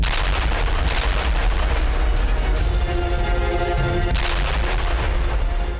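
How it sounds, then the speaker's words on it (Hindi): Bombs and artillery fire pound Hezbollah positions in southern Beirut, a dense continuous roar of loud booms and crackling gunfire, heavy and sustained throughout. "हिजबुल्लाह के ठिकानों पर भी बम बरसाए जा रहे हैं"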